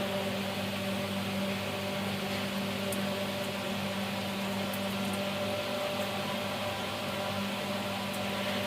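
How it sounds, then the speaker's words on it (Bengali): Cut pieces of nimki dough deep-frying in hot oil give a steady, even bubbling hiss that runs unbroken and fairly loud from start to finish, with a low hum underneath and no voices. "এই দেখো বাকি যেগুলো কেটে রেখেছিলাম ওগুলো আবার তেলের মধ্যে দিয়ে দিলাম"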